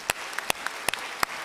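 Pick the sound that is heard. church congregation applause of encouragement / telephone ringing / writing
church congregation applause of encouragement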